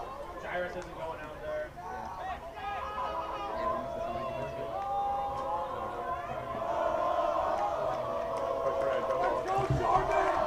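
A football crowd and team sideline cheer and shout in an outdoor stadium, a broad swelling roar that grows louder in the second half, with an announcer talking over it throughout.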